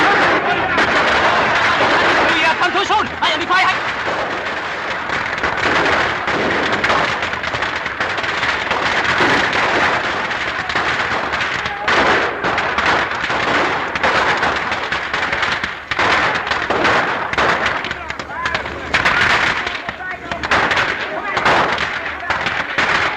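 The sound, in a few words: machine gun fire in 1936 film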